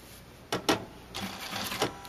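An industrial electronic sewing machine runs in short, quiet bursts, stitching with brief mechanical whirs and clicks separated by pauses, close by.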